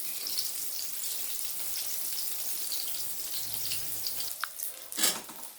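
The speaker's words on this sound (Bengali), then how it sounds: "এবার বেগুনগুলোকে আমি একে একে ভেজে নেব।" Eggplant slices fry in hot oil with a soft, even sizzle throughout, followed near the end by a couple of brief clinks and a splashy rustle; quiet and close, no talking.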